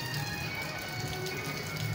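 Steady rain falls outdoors as a dense, even hiss with soft scattered taps. It continues without a break and no one speaks.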